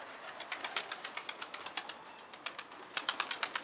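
Pigeons beat their wings in a steady run of soft flaps, close by and fairly loud, with the rapid bursts quickening near the end; no voices.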